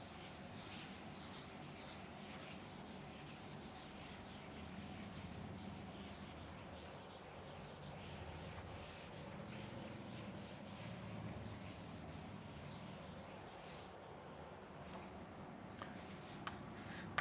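Continuous back-and-forth rubbing of an eraser or duster wiping writing off a classroom board, steady and close for most of the stretch, then tapering off, with no speech.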